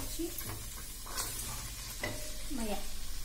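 Pav bhaji vegetables being mashed with a masher and fried in a little oil, giving a steady sizzle with repeated scraping and stirring strokes close by.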